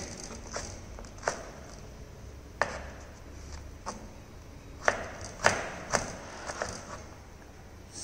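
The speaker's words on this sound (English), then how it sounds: "just thinly slice it" A kitchen knife cuts vegetables into thin julienne strips on a board, giving a series of crisp, irregular taps and chops at close range, with no talking.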